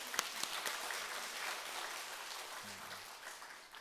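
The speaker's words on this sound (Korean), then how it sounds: "우리 주님께 영광의 박수 한번 돌리겠습니다." A church congregation at a dedication service applauds, a soft, somewhat distant patter of many hands with a few crisp claps early, fading gradually, with a brief low murmur of voices.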